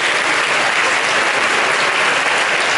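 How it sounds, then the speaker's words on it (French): An audience at a Paris Manga convention talk claps in a dense, even burst of applause that fills the hall for a few seconds, without speech. "Applaudissements s'il vous plaît pour David."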